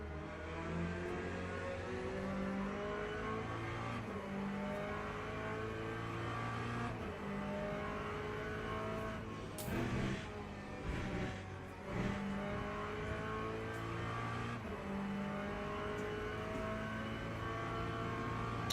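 A race car engine in the Le Mans Ultimate racing game drones loudly and steadily throughout, its pitch rising and falling through gear changes, with a brief burst of extra noise near the middle.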